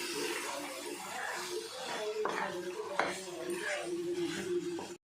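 Prawn biryani is stirred in a pot before the lid goes on, with clanking and scraping of a metal spoon on the vessel under soft, ongoing speech and a light chuckle.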